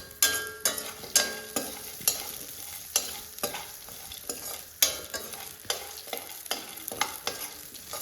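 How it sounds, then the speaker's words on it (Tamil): Onions being sautéed in a pan for guava chutney, with rhythmic scraping strokes of a spatula over a continuous oily sizzle, close up and without voices. "அது வரையும் நம்ம வதக்கி விட்டுக்கலாம்"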